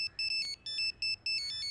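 An incoming-call ringtone on a phone plays a bright electronic melody of short, repeating tonal bursts with brief gaps between them, clear and fairly close.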